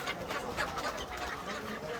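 Chickens clucking at a market, a dense, continuous chorus of overlapping bird calls against busy background noise with faint voices.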